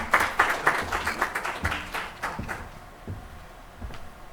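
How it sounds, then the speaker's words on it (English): Scattered applause from a medical conference audience, brisk at first and thinning into sparse, uneven claps that fade out over a few seconds. "A big round of applause, please."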